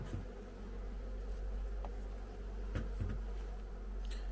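Caucasian honey bees droning steadily at an open hive during autumn inspection, a continuous close buzz with a few brief clicks and knocks.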